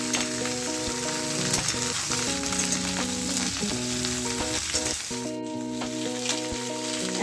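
Beans and eggplant sizzle steadily in a hot pan for a spinach chorchori, a constant close crackle with faint stirring, playing beneath background music from start to finish.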